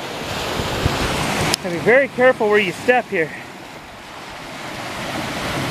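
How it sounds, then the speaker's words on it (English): Surf washes steadily over a rocky ocean beach under gusty wind buffeting the microphone, while someone speaks a short sentence partway through. "We're gonna go see the ocean."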